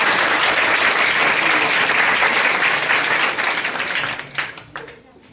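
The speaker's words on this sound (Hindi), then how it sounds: "आप अपने लिए जबरदस्त ताली पहले बजा लीजिए" Loud, dense audience clapping at an institute gathering, sustained for several seconds before thinning out into a few scattered claps at the end.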